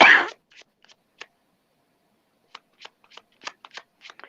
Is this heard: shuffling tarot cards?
yes